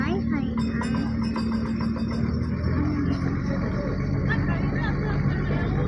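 A trawler's engine drones low and steady on the water near Kakdwip, a constant mechanical rumble beneath people talking close by.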